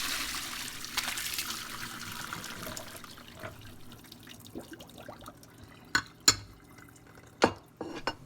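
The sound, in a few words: draining cooked rice noodles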